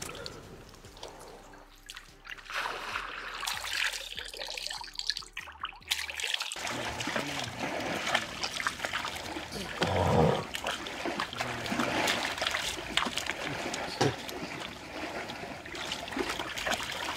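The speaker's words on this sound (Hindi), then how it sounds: "तो ये दोनों नहा रहा है" Two people bathing in a clear river make soft, continuous trickling and splashing water sounds, quieter and muffled at first, then steadier and brighter, with a few louder splashes.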